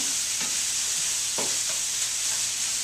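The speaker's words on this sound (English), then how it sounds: "Stir that in pretty good." A Thai ginger-lemongrass sauce is stirred into a sizzling stir-fry, a loud steady hiss broken by several brief spatula scrapes, close up with no voices.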